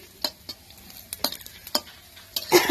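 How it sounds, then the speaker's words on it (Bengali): Onion, garlic and dried red chilli tempering fry in a pan at home, with sharp spoon taps and stirring scrapes against the metal over a low sizzle, swelling into a louder crackling fry at the end, heard up close. "এই যে পেঁয়াজ, রসুন, শুকনো লঙ্কার ফোড়ন দিলাম।"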